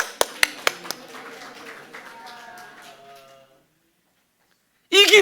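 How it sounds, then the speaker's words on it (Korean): A church congregation at a Sunday service claps in a short burst of sharp, separate claps that thin into scattered applause and fade to silence, then a voice speaks. "우리 하나님 앞에 영광의 박수."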